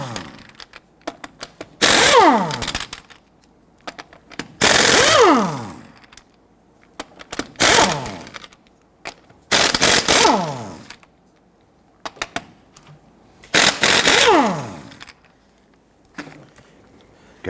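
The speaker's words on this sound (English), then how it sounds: "I'm going to go ahead and loosen and remove our lug nuts." An impact wrench with a 19mm socket loosens and spins off the lug nuts on a 2006-2010 Hummer H3 wheel in about six sharp hammering bursts, each followed by a falling whir and separated by quiet pauses.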